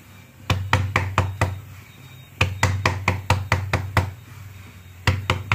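Hands pat jowar roti dough around its edges, a close series of sharp, hollow slaps in quick bursts of four or five, separated by brief pauses.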